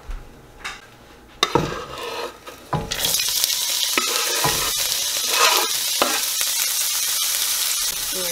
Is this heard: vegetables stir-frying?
yes